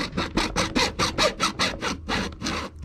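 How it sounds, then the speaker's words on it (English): A hacksaw cuts through a large pipe in steady, rhythmic back-and-forth strokes, about a dozen loud rasping pulls in quick succession, close and alone without talk. "I'll see if I can hacksaw through it. This is kind of a big pipe"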